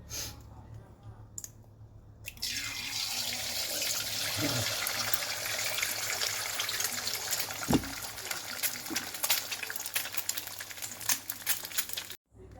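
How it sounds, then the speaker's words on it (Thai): After a brief quiet start, a steady close sizzle and crackle of an egg frying in a hot pan fills the clip, with scattered clicks and pops and a soft voice underneath. "เดี๋ยวลงไข่ดาวเลยค่ะกระทะร้อนแล้ว"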